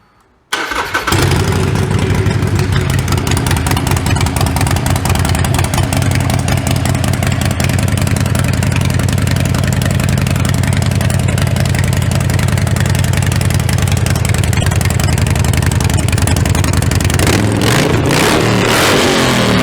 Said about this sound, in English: and then fire up the bike.